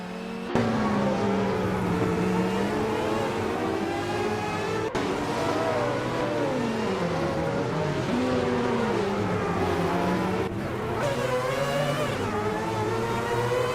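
Race car engines in a video game AI race whine loudly and continuously, pitch climbing and dropping through gear shifts, with several overlapping engines and abrupt cuts between them.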